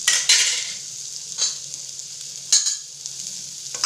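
Soaked cumin seeds hit hot oil in a pan for a Tamil avarai paruppu sambar, giving loud bursts of crackling sizzle that fade between stirs, with a faint low hum underneath and no talking.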